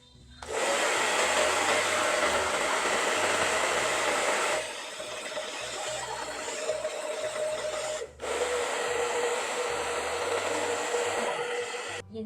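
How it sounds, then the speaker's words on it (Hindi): A hair dryer blows on a freshly cut women's bob haircut, a loud continuous whooshing roar that runs the whole time, with a softer stretch midway and a brief cut-out near the end. No one speaks. "अभी हम इसको ड्रायर करके दिखाते हैं आपको।"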